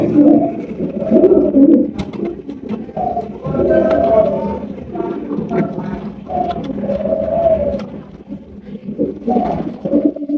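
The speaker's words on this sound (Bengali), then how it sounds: "এখানে রয়েছে একজোড়া লাহরি কবুতর" A pair of large Lahori pigeons, one dun-coloured, coo in repeated low, throaty phrases at close range, rising and falling in steady bursts over a murmuring background.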